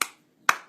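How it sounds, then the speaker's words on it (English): Two sharp, loud hand claps close by near a baby, about half a second apart, each ringing out briefly before silence. "just going to clap, make sure it's not too loud"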